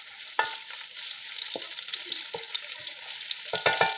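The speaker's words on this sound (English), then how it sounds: "I added onions after the oil." Onions sizzling in oil in a pot for okra soup, a steady close crackling hiss broken by a few sharp clanks of a utensil stirring against the pot.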